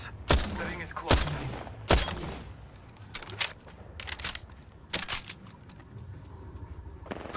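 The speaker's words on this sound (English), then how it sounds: "Shots fired. And they're hitting me." Sharp gunshots crack in the Apex Legends battle royale game, a few loud isolated bursts followed by fainter scattered shots and clatter, with a steady low background hum of game ambience.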